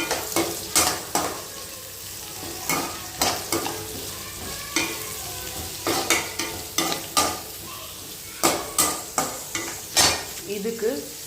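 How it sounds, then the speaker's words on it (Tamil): Chopped onions for tomato kurma sizzle in a hot pan while a utensil scrapes and stirs in repeated bursts, with no talking. "நறுக்கி வைக்கிற வெங்காயத்தை கொஞ்சம் நல்லா ரோஸ்ட் பண்ணி விடணும்."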